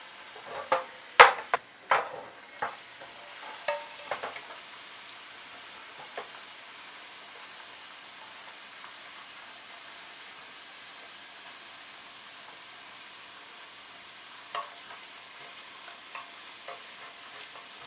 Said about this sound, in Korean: 감자의 모서리 부분이 색깔이 약간 갈색 날 때까지 튀겨주세요.